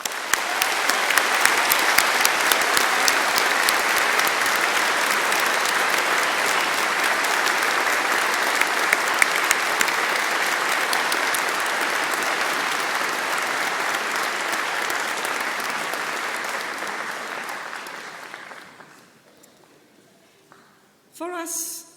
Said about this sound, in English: thank them for the part they played by a well-deserved round of applause